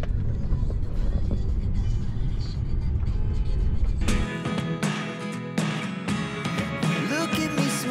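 Inside a Tesla ride-hailing car on the move in Tbilisi, Georgia, with a steady low road rumble that shifts partway through as music or cabin noise rises, and no clear voices.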